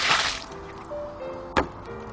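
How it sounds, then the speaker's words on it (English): Dirty water tipped out of a garden bird bath, a short splashy gush at the start followed by quieter dribbles and one brief splash, close by. "this water is a little bit dirty, so I'm going to tip it away like this"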